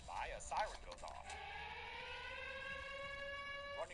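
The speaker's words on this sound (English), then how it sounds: "after a bunch of emergency vehicles drive by, a siren goes off." An air-raid style civil defense siren wails in a wartime film scene, its rising tone settling into a long sustained howl with strong harmonics, following a brief noisy passage with faint voices at the start.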